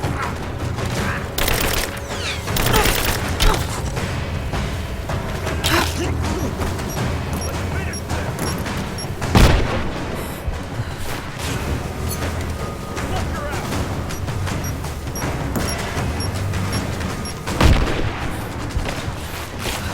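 Gunfire in Rise of the Tomb Raider: loud, dense shooting with sharp booming shots standing out around the middle and near the end, under continuous combat noise and voices talking.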